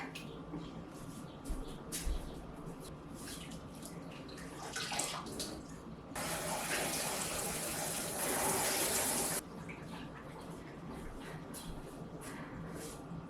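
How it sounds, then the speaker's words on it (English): Iron-mordanted wool yarn is rinsed under running water, with faint splashing and handling before a steady gush of tap water runs for a few seconds and then stops, followed by softer wet handling. "after I rinsed the yarn"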